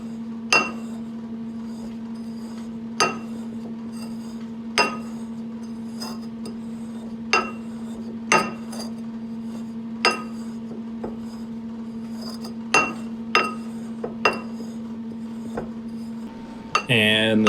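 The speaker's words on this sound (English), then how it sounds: "putting one of the samples in a mortar and pestle, and we're going to grind it up so that we get tiny particles" A laboratory rock sample for X-ray fluorescence analysis is ground in a mortar and pestle, with a steady hum beneath sharp, irregular clinks and scrapes of the pestle striking the bowl, close and clear, with no talking.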